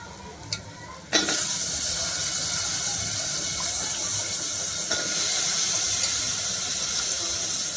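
Steady sizzling of brinjal and potato frying in a hot pan, loud and continuous after a sharp clatter near the start, with occasional stirring sounds.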